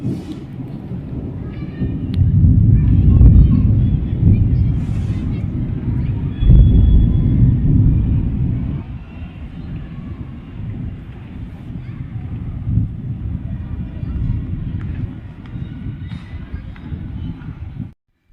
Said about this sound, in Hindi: अभी आप बादलों की आवाज़ सुनिए